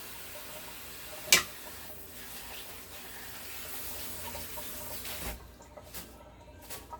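Fresh cilantro is washed under a running tap, with a steady wash of water and a sharp clack near the start, followed by quieter intermittent splashes.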